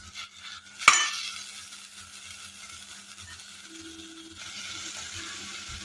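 Chopped tomatoes hit hot oil in a pan of toor dal curry, giving a sharp clatter followed by a steady soft sizzle and light stirring, close up, with no talk.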